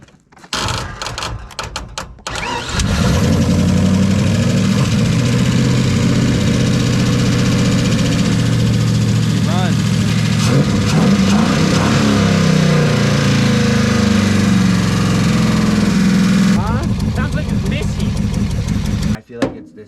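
A 5.3 V8 swapped into a Nissan 240SX cranks and fires, then idles steadily with a loud, ticky running note for about fifteen seconds before shutting off, with someone talking over the start.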